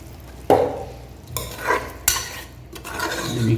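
A spoon stirs through thick potato and cauliflower curry in a pot as water is mixed in, scraping and sloshing in several separate strokes with a light sizzle underneath.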